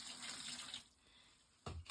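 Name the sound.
pouring water into a pail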